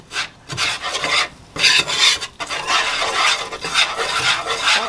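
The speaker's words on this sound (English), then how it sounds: "Stir this around like this here until this here become a golden brown color" A spoon scrapes and rasps steadily through a flour and butter roux in a pan, in repeated close stirring strokes with brief pauses, no talking.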